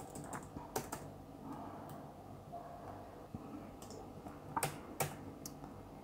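Computer keyboard clacking while text is entered in Publisher for an invoice template, light irregular keystrokes with a few louder spacebar or tab hits, faint and close, over quiet background hum.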